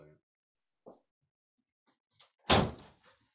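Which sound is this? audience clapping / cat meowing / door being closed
door being closed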